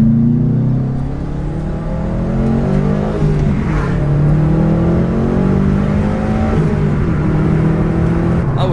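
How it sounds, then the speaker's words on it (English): Subaru STI fitted with a new intake and tune, engine droning and rising in pitch as it accelerates, loud and close throughout with a steady rumbling note, no voices. "I'm gonna let y'all hear the car a little bit with the new intake and the tune on it."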